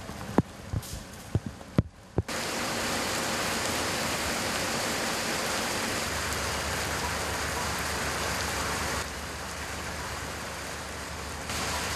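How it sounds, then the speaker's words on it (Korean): A sudden heavy rain shower beats down hard and steadily on a construction site where centuries-old pine trees are being moved. After a few opening knocks, a dense, unbroken roar of rain continues. "세찬 비에 지반이 약해져서 나무가 넘어지지는 않을까."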